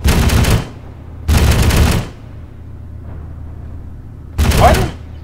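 Three loud bursts of gunfire firing armor-piercing rounds in a combat engagement, each a sustained roar lasting under a second, separated by quieter rumbling gaps with faint radio-style voices between.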